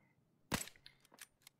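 A pistol in Battlefield V fires one sharp shot, followed by a few quick mechanical clicks of the reload, all quiet and isolated.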